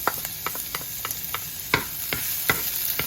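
Garlic hits hot oil in a pan where browned jalapeños are frying, giving a steady close sizzle marked by a series of sharp spoon scrapes and taps.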